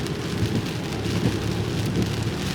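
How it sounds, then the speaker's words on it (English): Torrential rain pours steadily on a rainy morning, a dense continuous hiss with low rumbling thunder underneath, loud and close throughout with no voices. "good morning on this torrential rainy day"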